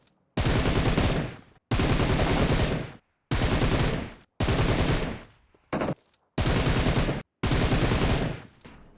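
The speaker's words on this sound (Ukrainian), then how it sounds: "Ваша задача просто стріляти по мішеням." Automatic rifle fire at shooting range targets in PUBG Mobile, six loud sustained bursts of rapid shots separated by short silent pauses, one burst much shorter than the rest.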